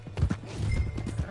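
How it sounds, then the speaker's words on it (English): Horse hooves clip-clopping in a video game, several quick, close hoofbeats in an uneven trotting rhythm across a short moment, fairly loud with no talk. "Hey, that's my horse!"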